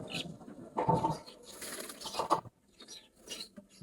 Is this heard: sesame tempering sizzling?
no